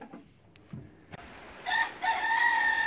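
A rooster crows loudly in a sustained call after a few quiet clucks and small noises, close by and clear, in a smallholding poultry yard with chickens.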